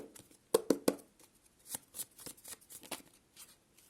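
Tarot cards are shuffled and pulled in close, crisp flicks and riffles, starting with three sharp snaps followed by a series of softer slides and taps.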